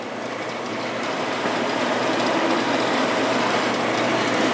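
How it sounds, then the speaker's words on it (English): A single-phase 110-volt gravity-feed roll-in bandsaw runs steadily, giving a continuous loud broadband whir and hiss with a faint mechanical rattle, constant throughout and with no voices. "we have a roll-in saw here"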